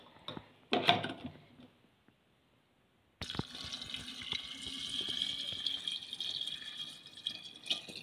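Salted brine pours into a jar packed with turnip pickles, a steady splashing, trickling stream after a brief clatter and a short pause, close and moderately loud, with no talking.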